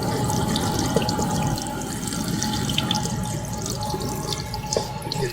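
Tap water runs steadily into a sink while a K&N air filter from a Triumph Street Triple R is rinsed, a constant close splashing wash with no talking.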